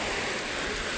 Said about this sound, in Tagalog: kanina pang umaga nagsisimula yung ulan hanggang alas 3 ng hapon, hindi pa talaga tumitigil